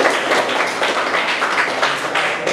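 A classroom of students applauds, dense steady clapping from many hands filling the room at a constant level with no voices over it.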